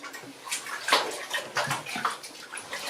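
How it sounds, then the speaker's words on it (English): Water sloshes and splashes in a blocked old toilet bowl as a plunger works it, in short irregular wet surges and gurgles, close and moderately loud, with no talk. "what we're going to do now is have a bit of a plunge on Mark's old toilet"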